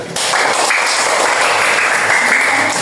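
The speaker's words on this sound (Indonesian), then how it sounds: "Tepuk tangan dulu." Classmates give loud, steady applause after a group presentation in a classroom, a continuous clatter of clapping lasting the whole stretch.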